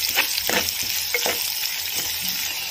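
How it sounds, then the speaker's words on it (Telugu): Ginger garlic paste frying in a pan with a bright, constant sizzle and several stirring scrapes, close and alone. "ఇలా కొద్దిసేపు ఫ్రై చేసుకున్న తర్వాత అల్లం వెల్లుల్లి పేస్ట్ వేసి"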